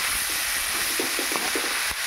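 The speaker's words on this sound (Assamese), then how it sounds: "এতিয়া মাংসখিনি ভাজি আছোঁ।" Local chicken pieces fry in a pan with ginger, garlic and black pepper, giving a steady close sizzling hiss broken by several soft clacks of stirring, with no voices.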